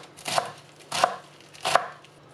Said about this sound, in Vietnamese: Lá cắt nhỏ đi chút mình nêm canh.